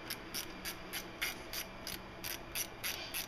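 A 1/2-inch wrench adjusts the belt tensioner bracket nuts of a belt drive kit on a small-block Ford 347 engine: about a dozen quick, even metallic ratchet clicks, faint and close.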